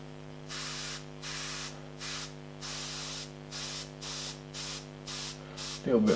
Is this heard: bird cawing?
no